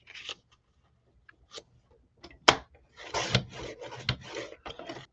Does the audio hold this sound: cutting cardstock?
yes